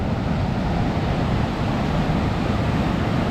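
Loud, continuous roar of sea surf breaking against shoreline rocks at Aglou on the Moroccan coast, dense and unbroken with wind buffeting the microphone.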